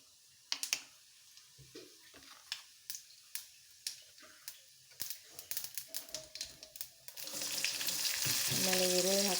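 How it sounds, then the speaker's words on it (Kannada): Cumin seeds hit hot oil in a pan: a run of sharp, spaced clicks and taps gives way near the end to a loud, steady crackling sizzle that fills the last second or so. "ಎಣ್ಣೆ ಕಾಯ್ದಿದೆ, ಜೀರಿಗೆ ಹಾಕಿ"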